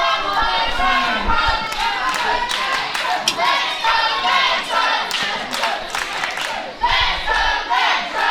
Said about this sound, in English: You hear this crowd really getting behind.